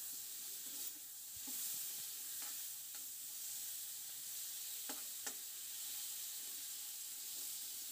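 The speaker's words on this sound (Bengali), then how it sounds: "এইভাবে আমি শিম ভেজে নিচ্ছি।" Flat beans frying in a pan, a faint continuous sizzle broken by a few soft scrapes and clicks as the beans are stirred, with no voices.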